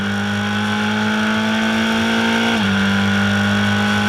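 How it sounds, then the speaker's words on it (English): Formula 4 race cars at Donington Park scream past under acceleration, a loud, close, sustained high engine whine that dips slightly in pitch partway through. "the field accelerates down towards the Melbourne loop for the first time"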